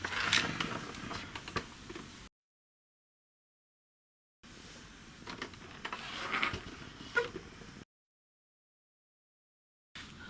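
Screws being undone while an Amstrad 8090 boombox with removable Walkman is taken apart: soft mechanical clicks and scraping in two bursts of a few seconds each, separated by silence, close and fairly quiet with no talk.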